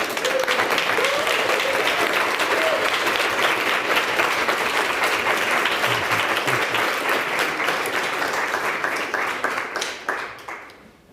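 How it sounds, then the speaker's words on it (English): A large audience applauds a guest lecturer steadily and loudly for about ten seconds, the clapping thinning and fading out at the end. "Let us give a great applause to our guest."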